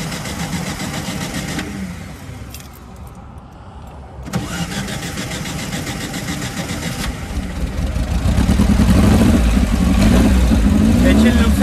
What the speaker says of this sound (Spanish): Vamos a ver si prende.